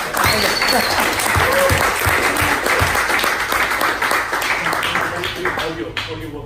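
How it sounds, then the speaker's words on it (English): A round of applause from an audience at a longevity and senolytics talk, steady clapping close by with voices talking over it, thinning out toward the end. "Fitz, round of applause"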